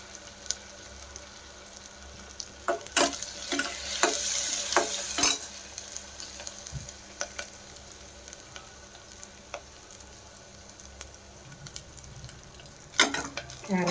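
Mixed vegetables with ginger-garlic paste and turmeric being stir-fried in a pan, with a steady soft sizzle and a cluster of sharp spatula scrapes and clinks near the start and again toward the end.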